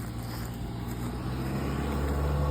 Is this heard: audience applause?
no